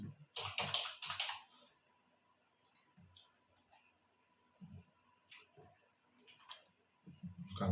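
Keys on a computer keyboard clatter in short, uneven bursts of typing separated by quiet pauses, close and fairly faint, while a thumbnail is being edited.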